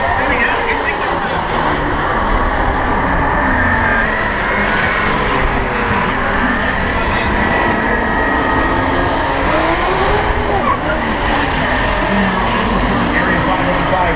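Power Wheels ride-on toy cars race around a track, their motors whining in a loud, continuous drone. An announcer talks over the engines throughout.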